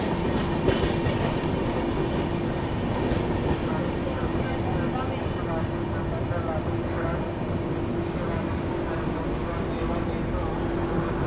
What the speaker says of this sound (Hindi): अपनी पूर्वा एक्सप्रेस अराइव कर रही है दुर्गापुर रेलवे स्टेशन पे।